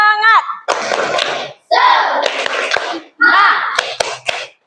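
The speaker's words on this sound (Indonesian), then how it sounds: "untuk menambah semangat, kita tepuk semangat" A group of students performs a rhythmic 'tepuk semangat' clapping cheer in a classroom, with three short bursts of chanted voices mixed with sharp claps and brief pauses between them.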